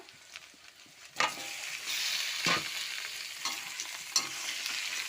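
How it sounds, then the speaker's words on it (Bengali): Steady sizzling of chicken frying with onions in a hot pan, with occasional scraping stirs and clicks, no voices. "আমি এর মধ্যে চিকেনটা দিয়ে দেবো। চিকেনটাও একটু ভেজে নেব।"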